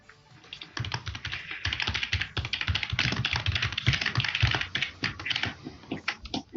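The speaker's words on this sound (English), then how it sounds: "I was typing there." Rapid typing on a computer keyboard in a house, a close, brisk run of crisp key clicks with brief pauses and irregular rhythm, heard alone without talk.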